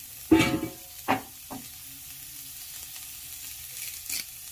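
Chopped tomato and curry leaves drop into hot oil for vegetable Maggi noodles, giving a few loud sizzling bursts in the first second and a half before settling into a quiet, faint fry.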